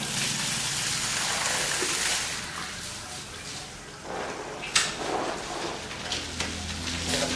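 Water poured from a mug over a dog during a bath to rinse off ticks, a continuous splashing gush that eases, then returns in uneven pours with a sharp splash, close and moderately loud.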